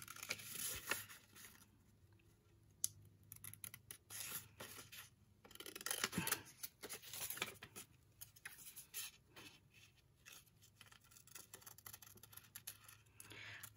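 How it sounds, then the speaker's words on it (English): Soft scissors snips and paper rustling come in irregular bursts, close and quiet, with no talking. "It's not my fussy cut scissors, but it will work, right?"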